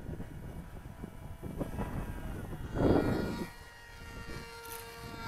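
A ZOHD Nano Talon RC model plane's electric motor whines steadily while landing on a windy day, swelling louder around the three-second mark as it passes close, then cutting out and fading to quiet background.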